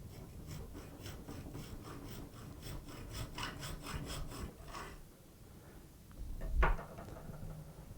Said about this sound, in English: this is a 23 thou saw blade for a screwdriver slot